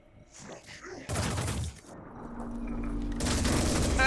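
Weapons fire erupts during a firefight in the strategy game Terror From the Void, with a sharp burst of shots followed by a louder, sustained barrage building toward the end, amid game effects.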